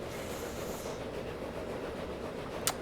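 An old steam train rumbles along the track in the Transport Fever 2 simulation game, giving a steady, even running noise with a brief sharp squeal near the end.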